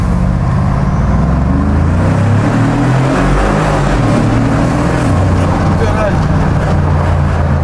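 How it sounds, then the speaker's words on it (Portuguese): A new car's engine roars inside a road tunnel, loud and continuous with low rumbling harmonics that shift as it pulls, echoing off the walls while people talk over it. "Rapazes, teste do som no túnel."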